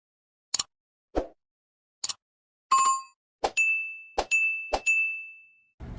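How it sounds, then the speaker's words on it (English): A bright notification bell ding sound effect, several short chime hits followed by sustained ringing tones, loud and alone with no talk. "hit that little notification bell"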